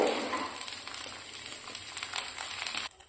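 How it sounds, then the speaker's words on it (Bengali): A potato-stuffed crepe, rolled like patishapta, sizzling in oil on a tawa griddle, a steady close frying hiss with light crackles that cuts off abruptly near the end. "এই যে এটাও আমি ভেজে নিলাম, ঠিক পাটিসাপটার মতো করে কিন্তু ভেজে নিচ্ছি।"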